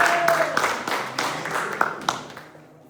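A church congregation claps together in a steady rhythmic applause, loud and close, with a few whoops and voices mixed in before the clapping fades out.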